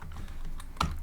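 Keys click on a computer keyboard during a short run of typing, soft close taps with one slightly louder keystroke near the end.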